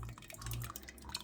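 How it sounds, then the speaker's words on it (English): Tomato sauce poured into a pan over smashed ingredients, a soft wet dripping and splattering sound that runs steadily for a moment, close and fairly quiet. "We're just going to pour it all in there."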